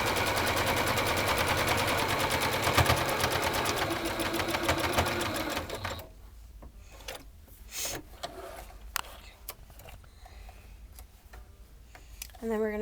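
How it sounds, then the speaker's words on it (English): A sewing machine runs steadily and loudly for about six seconds as absorbent material is sewn onto topper fabric for a cloth pad, then stops, leaving scattered handling clicks and rustles. "now we're just going to sew the absorbent material onto our topper fabric"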